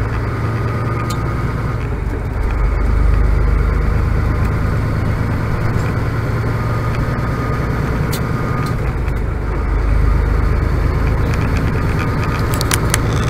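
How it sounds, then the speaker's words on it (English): Early morning road traffic in Cambridge, Ontario, heard from a truck: a steady engine rumble and road noise throughout with passing vehicles swelling and fading, plus occasional faint clicks. "early morning traffic"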